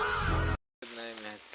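A voice imitates a rooster crow in two short, strained calls separated by a brief silence, heard up close.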